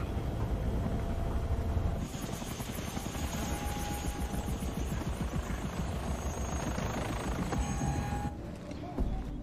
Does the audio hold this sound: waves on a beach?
no